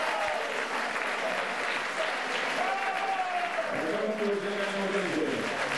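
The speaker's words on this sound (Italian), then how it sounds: "Applausi a scena aperta del pubblico del Folgheri." Spectators at a football match break into open applause, a steady wash of clapping heard from a distance with faint tonal bird-like calls drifting through it.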